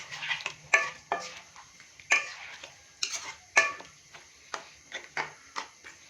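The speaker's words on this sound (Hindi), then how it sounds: "अरबी डालने के बाद हम इसको अच्छे से मिक्स करेंगे।" A utensil stirs taro root and beef in a wok, giving irregular metallic clinks and scrapes spaced a fraction of a second apart. The sound is close and has no voices over it.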